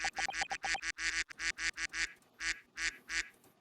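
Rapid duck quacks from a sound effect burst out in a fast run, followed by slower, spaced quacks, nasal and clear with no other sound around them.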